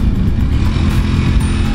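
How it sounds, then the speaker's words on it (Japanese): A close, low Ducati V4 motorcycle engine rumbling steadily at moderate revs for a brief moment after a downshift, with no talking. "エンジンが面白い音がする。"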